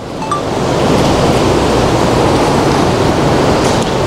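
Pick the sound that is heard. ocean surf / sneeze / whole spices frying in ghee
ocean surf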